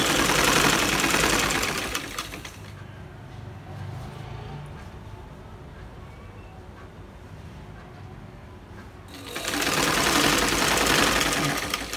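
A sewing machine stitches a salwar, loud and close for the first two seconds, then dropping to a quieter steady hum with faint handling noise before running loudly again near the end.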